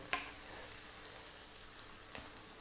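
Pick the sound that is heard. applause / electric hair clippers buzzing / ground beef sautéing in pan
ground beef sautéing in pan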